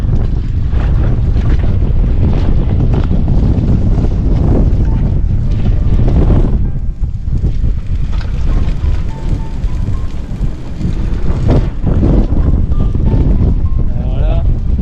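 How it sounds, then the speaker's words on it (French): Strong gusty wind at 25-30 knots buffets a boat at midday, roaring loudly into the microphone with surging gusts and brief lulls, and a voice talks over it at times. "Alors là, on a des rafales à 25-30 nœuds."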